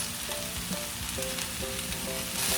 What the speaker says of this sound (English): And stir fry it.